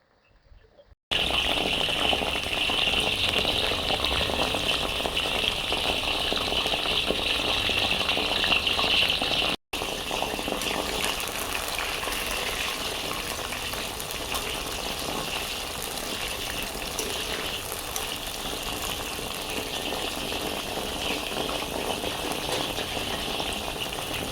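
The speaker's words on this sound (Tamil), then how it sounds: "ஸோ அப்படியே இது நல்லா ஃப்ரை ஆகட்டும்." Mushroom 65 pieces deep-frying in hot oil for a roadside-style crispy snack, a loud, steady bubbling sizzle that runs continuously with one brief dropout near the middle.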